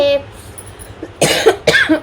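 Two loud, close coughs in quick succession, harsh and chesty, after a brief moment of quieter sound.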